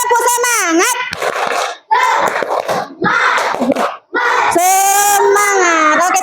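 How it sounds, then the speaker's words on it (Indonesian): A class of sixth-grade children joins in a rhythmic clapping chant, loud shouted unison voices in short bursts with brief pauses between, claps mixed in. "Tepuk semangat lagi ya."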